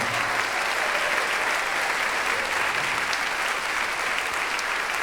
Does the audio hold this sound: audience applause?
yes